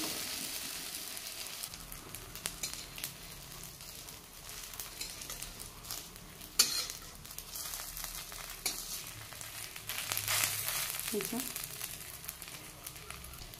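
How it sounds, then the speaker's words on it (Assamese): Narasingha (curry) leaf fritters frying in a small amount of oil while being stirred, a continuous close sizzle and crackle with scraping stirs, swelling louder near the end, with some talk over it. "নামমাত্ৰ তেলত এনেকৈ লৰাই লৰাই মচমচীয়াকৈ মই এই নৰসিংহৰ পাতৰ বৰকিটাও ভাজি লম"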